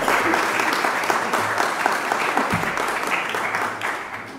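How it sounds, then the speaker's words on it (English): A parish audience claps in a round of applause, dense and even at first, then thinning slightly toward the end, with no voices over it. "May I have a round of applause for that?"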